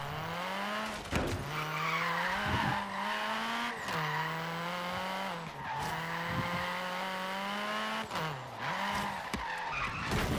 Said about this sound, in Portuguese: Meu carro travou as rodas.